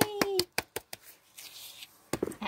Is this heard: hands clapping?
yes